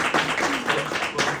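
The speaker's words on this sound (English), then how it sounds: "please give a round of applause" An audience at a presentation event in Miami claps steadily, a dense patter of hands at moderate distance with no talk over it.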